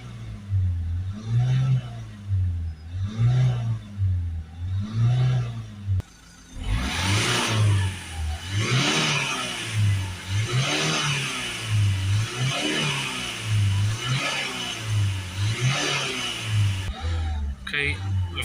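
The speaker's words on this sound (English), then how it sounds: "we've given it a few revs up and down just to get all the fluid cleared out" Nissan Note 1.5 diesel engine revved up and down several times after cleaning fluid was added, a rhythmic rise and fall of engine roar with people talking over it.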